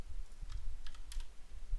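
Soft, close clicks of computer keyboard keys tapped a few times in an irregular rhythm while editing in After Effects, faint over a low room hum, with no talk.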